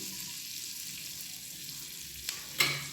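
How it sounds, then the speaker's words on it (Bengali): Butter sizzling softly in a pan with a little garlic added for pasta, a steady low fry that is broken near the end by a sharp clatter and a brief louder burst. "একটু বাটার দিলাম পাস্তা বানাবো আজকে একটুখানি রসুন দিয়ে দেবো"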